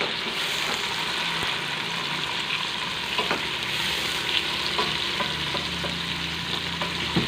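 Tomatoes sizzle steadily in hot ginger-garlic paste in a pan, a continuous close frying hiss with occasional soft clicks of a spoon mashing and stirring, no voices.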